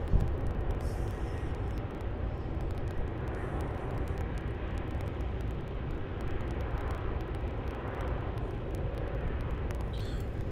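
A Qantas airliner, flight 418, spools up and rolls for takeoff on runway 34 at Melbourne Airport. A steady, broad jet roar fills the scene at moderate distance and stays constant throughout, with no voices.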